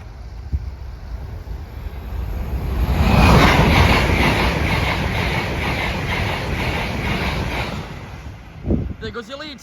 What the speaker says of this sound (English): There goes your Leeds train.